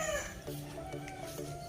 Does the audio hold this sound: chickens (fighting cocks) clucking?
yes